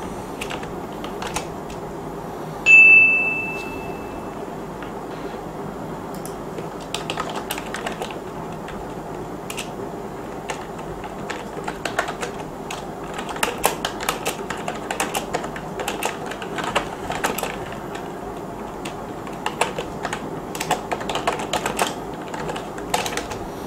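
Typing on a computer keyboard: irregular bursts of close, crisp key clicks that pick up density after a brief quiet start, with no talk over them.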